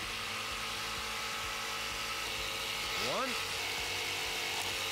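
A BladeRunner X2 tabletop saw cuts wooden dowel rods, its motor whining steadily with a rising, falling pitch sweep as the blade bites. A voice counts over it.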